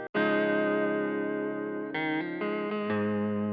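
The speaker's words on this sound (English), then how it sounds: "kind of gives it like a fluttery kind of vibrato effect to the guitar" Electric guitar played through a wavering vibrato effect, sustained chords fluttering with a warbling, chorus-like shimmer and changing at a few points, loud and close with no talking.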